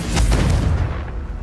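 A Confringo spell explosion in the video game Hogwarts Legacy on PS5: one heavy, close boom with a deep rumble that swells briefly and then dies away within a second or so.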